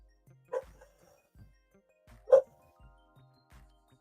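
A dog barks twice, a few sharp woofs spaced well apart, with quieter yips and low thumps between them, heard alone without talk.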